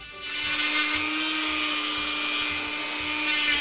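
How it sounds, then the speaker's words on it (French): A Dremel rotary tool on a flexible shaft rounds and sands the corners of intarsia wood pieces, giving off a steady, high-pitched whirring hum with slight scraping texture, close and alone. "Je me sers d'une Dremel avec une rallonge souple."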